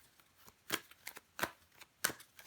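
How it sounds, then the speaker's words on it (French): Tarot cards are handled and laid out on a table, giving soft papery slaps and brushes in an uneven rhythm of about five distinct snaps, close and quiet, with no talking. "On va recouvrir des cartes."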